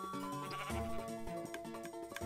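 A sheep in the Minecraft video game bleats loudly and close, a wavering cry over the game's background music.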